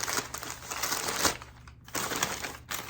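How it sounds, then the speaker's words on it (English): Paper wrapping around a bare-root Potinera orchid crinkles and rustles close by in bursts, loud and continuous with brief pauses, while the plant is unpacked. "Okay, the paper is being really noisy."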